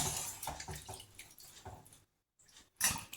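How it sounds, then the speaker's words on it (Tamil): Cauliflower is washed in hot water in a kitchen: soft splashing and dripping with a short quiet gap, then a brief louder splash near the end. "நல்லா கழுவிட்டு திருப்பி இந்த மாதிரி சுடு தண்ணியில் போட்டு எடுத்துக்கணும்"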